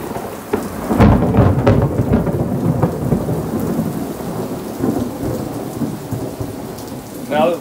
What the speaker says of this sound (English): Now that the thunder's done